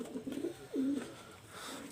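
Pakistani high-flying Teddy pigeons coo softly, giving two short throaty coos close by with a brief gap between them against a quiet background.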